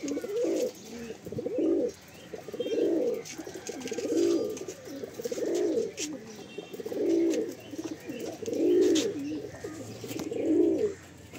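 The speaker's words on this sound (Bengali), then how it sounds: "ম্যাক্সিমাম সব ফুলসরাই পায়রা" A pair of Fulsira Madrasi pigeons cooing close by, in regular rounded bursts about every second or so, repeating steadily with little else in the background.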